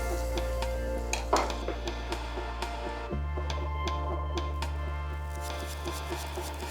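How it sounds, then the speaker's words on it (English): Butter sizzles softly in a pan with a sandwich, a faint steady hiss broken by occasional clinks of a utensil against the pan. "Take some butter. There we go. It's the sizzle we're looking for."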